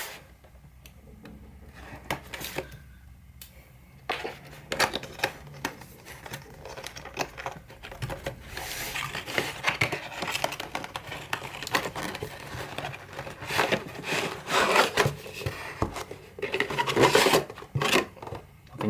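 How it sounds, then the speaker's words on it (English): Stickers are cut and a JBL Flip5 speaker box is opened, giving close scraping, rubbing and crinkling of cardboard and packaging with scattered taps and clicks that grow busier and louder over time. "So let's go ahead and unbox it."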